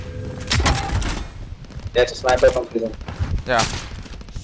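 Sniper gunfire in a multiplayer shooter game, a few sharp broadband cracks spread across the clip amid shuffling game noise, with players talking over it.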